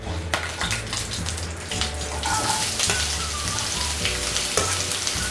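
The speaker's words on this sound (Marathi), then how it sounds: "हा छान असा भाजून घ्यायचा आहे कांदा" Two cut onions roasting in a pan with whole spices for Kolhapuri masala, a continuous loud sizzle with utensil scrapes and stirring noises over it.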